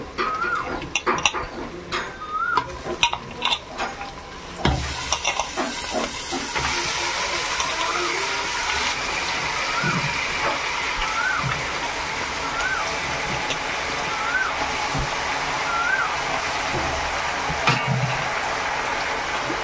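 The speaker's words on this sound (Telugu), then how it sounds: "ఇప్పుడు నీట్గా వాష్ చేసి పెట్టుకున్న చికెన్ ఇందులో వేసుకుందాం." Washed chicken pieces drop into a hot pan for a homestyle chicken curry, setting off a loud, steady hiss and sizzle that carries on unbroken after some clattering handling at the start.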